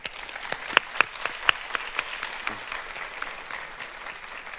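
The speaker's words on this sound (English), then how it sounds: "Let's give our visiting school districts a huge round of applause" An audience at a student film awards ceremony applauds visiting school districts, a soft scattered clapping with a few sharper individual claps near the start, fading gradually and sounding somewhat distant.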